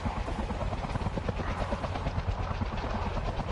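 Helicopter taking off in Front Mission 3 Remake: steady, loud rotor thump with dense engine whine and rushing wash, continuous and close throughout.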